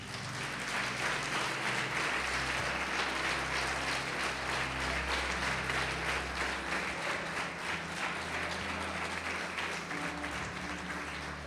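A church congregation applauds in a steady, dense wash of clapping that holds evenly for about eleven seconds, loud and close, with no speech over it.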